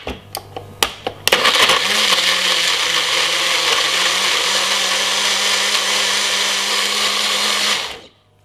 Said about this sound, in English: Switch on my blender, and I'm gonna cover it just like this.